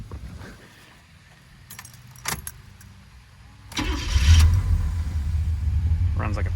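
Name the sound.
Chevrolet El Camino engine starting up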